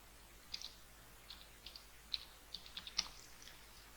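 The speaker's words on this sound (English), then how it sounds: "So I'll just type in the name here." Quiet, close keystrokes as a domain name is typed on a computer keyboard, arriving in short irregular bursts of light clicks with pauses between them and no voices.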